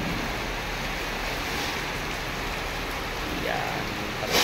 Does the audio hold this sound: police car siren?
no